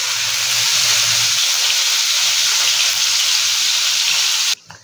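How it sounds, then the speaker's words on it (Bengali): Paneer pieces frying in oil in a pan make a loud, steady sizzle and hiss that runs unbroken almost to the end, then cuts off abruptly. "এবার পনিরটা একটু ভাজা ভাজা করব।"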